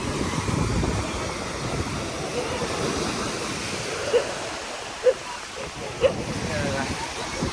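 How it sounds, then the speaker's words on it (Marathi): Sea water washing in around someone standing on a beach at sunset, a steady close roar of surf with wind buffeting the microphone and a few small splashes near the end. "इकडून पाणी जातंय तिकडून पाणी जातंय आणि मध्येच मी उभा आहे."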